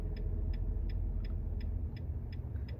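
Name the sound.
grinding noise from Nissan Titan truck AC compressor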